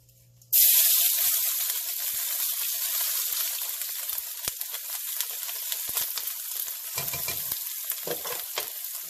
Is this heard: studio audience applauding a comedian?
no